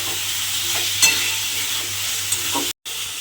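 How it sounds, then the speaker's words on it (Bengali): Fried potatoes being stir-fried with spices in a pan, a loud, continuous hissing sizzle with a few faint utensil scrapes and a brief cutout near the end. "আলুটা আমি এর মধ্যে দিয়ে দেবো দিয়ে খুব ভালোভাবে মশলার সঙ্গে আলুটা কষিয়ে নিতে হবে"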